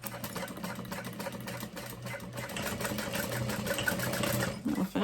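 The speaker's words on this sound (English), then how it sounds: "this side's really easy to sew because all of those layers were sewn together initially" Sewing machine stitching through the layered edge of a fabric binder cover, a steady rapid mechanical whir and needle chatter, close and continuous.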